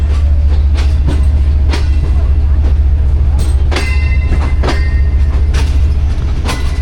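Pak Business Express passenger train running from Karachi to Lahore, a loud steady low rumble from the carriage with repeated clicking rail joints and occasional metallic squeals throughout.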